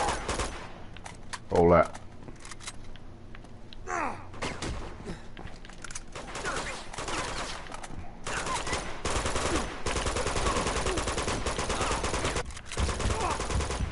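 Gunfire from Uncharted 2 gameplay: scattered shots early, then sustained rapid firing building into a dense fusillade, with a player talking briefly over it.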